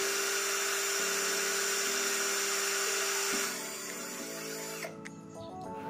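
A DCK KDJZ1602 cordless drill runs in drilling mode at first gear, a steady close motor whine holding throughout with small pitch shifts, easing off near the end.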